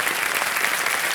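Studio audience applause on a TV quiz show set, Kaun Banega Crorepati, a steady broadband wash of many hands clapping, loud and continuous throughout the short stretch with no talk over it.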